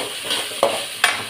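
Curry leaves hit hot oil in a frying pan, giving a steady sizzle broken by two sharp spitting crackles, close and fairly loud, with no voice.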